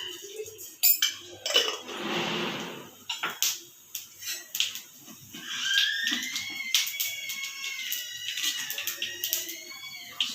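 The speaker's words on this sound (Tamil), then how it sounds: "சூடானோடனே 1 ஸ்பூன் சோம்பு மட்டும் தாளிக்கிறதுக்கு போட்டுக்கலாம்." Fennel seeds tempering in hot oil in a pan, a bright crackling and sizzling with scattered clinks of utensil against metal, close and moderately loud, with no talking.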